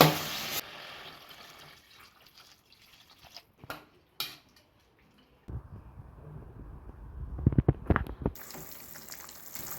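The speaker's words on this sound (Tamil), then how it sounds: "இப்போ இது கூட தண்ணி சேர்த்துக்கலாம் கறி முழுகிற அளவுக்கு" Water is poured into Tamil Nadu-style chicken Chinthamani curry cooking in a pan. It starts as a brief splash, then quieter trickling, and ends in a louder gushing pour with sizzling and bubbling, with no talk.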